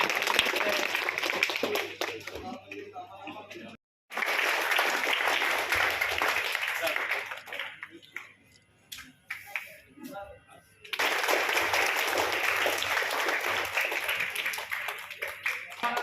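Applause from the audience at a Republic Day celebration held at a madrasa, in sustained bursts of clapping with brief gaps.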